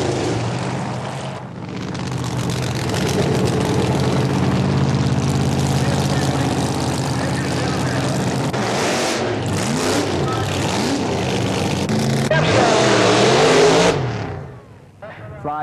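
A big block Chevrolet-powered pickup truck with a Lenco transmission roars down a quarter-mile drag strip, a loud sustained engine wail that swells and shifts in pitch before cutting off near the end, with a voice talking over it.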